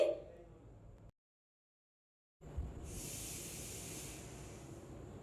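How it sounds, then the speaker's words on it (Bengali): Marinated pointed gourd hits hot oil and spices, loudly sizzling after a brief silence and settling into a steady, close frying hiss with no talk. "ফোড়নটা ভালোভাবে ভেজে নিয়ে এবার এখানে মেখে রাখা পটল দিয়ে দিচ্ছি।"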